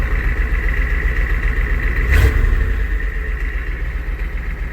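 A Ford F250 truck engine idling low with a leaked-out power steering fluid, a loud steady rumbling throb heard up close, with a brief swell in the middle before settling back to an even idle.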